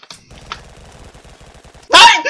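A burst of gunfire in the video game Double Action: Boogaloo, a single loud sharp blast near the end after quieter game sounds and a brief voice.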